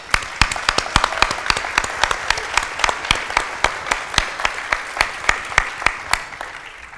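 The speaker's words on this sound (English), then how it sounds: "I want all of you to applaud for yourselves." An audience at a floodplain management awards event applauds steadily, with loud, sharp individual claps standing out over the broad patter of the crowd for several seconds.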